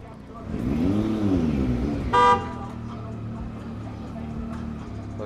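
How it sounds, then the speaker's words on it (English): A single short car horn honk sounds amid New York City street traffic near St. Mark's Place, following a passing vehicle's swelling rumble, with people talking nearby. "People behind that car had to honk their horn a few times"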